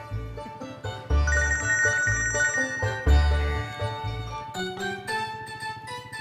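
A phone ringtone announces an incoming call in an Indonesian comedy scene about a motorbike taxi driver, a loud, melodic repeating jingle with a thumping beat that plays alone for several seconds.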